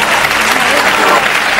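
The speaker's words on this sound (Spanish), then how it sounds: "voy a ser yo el que pida un aplauso para una madre que habla así de sus hijos" TV studio audience applauding in a Spanish talk show, a dense, steady wash of clapping that fills the whole short stretch at full loudness.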